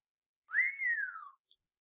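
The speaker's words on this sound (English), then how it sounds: "Mr. Bundercombe whistled." A man whistles a single sliding note, rising quickly and then falling slowly, clear and close in an otherwise quiet audiobook reading, followed by a tiny click.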